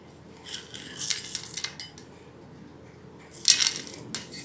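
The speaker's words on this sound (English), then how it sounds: "Now we'll add the chocolate chip" Chocolate chips go into wheat flour cookie dough, a few sharp clinking and rattling bursts as they drop and scatter into a bowl, close by with quiet pauses between.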